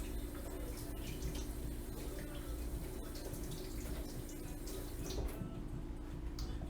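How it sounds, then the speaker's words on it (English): Tap water runs steadily into a kitchen sink as hands are washed, a constant close splashing hiss with small irregular spatters throughout. "I'm gonna wash my hands."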